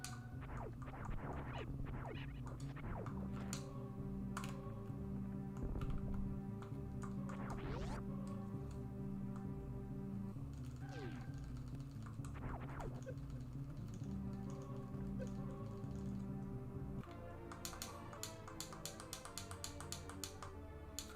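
Clicky keyboard keys and buttons tapped in a steady scatter of sharp, close clicks, sitting over a constant bed of droning game music and ambience, with a denser run of rapid clicks near the end.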